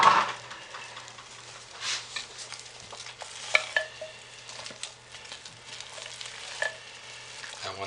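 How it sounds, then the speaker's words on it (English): Chunky soap embeds are stirred into a pot of hot process soap, giving soft wet squishing and scraping sounds with occasional light clinks of the utensil against the pot, close and steady. "I'm going to go ahead and put those in right now and start to stir and get them mixed in"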